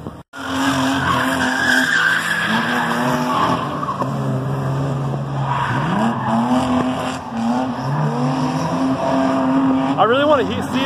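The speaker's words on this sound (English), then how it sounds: "Do a burnout!" At a drift event at Evergreen Speedway, a car roars and its tires skid and squeal in long sliding bursts, loud and close, with spectators talking and shouting over the engine.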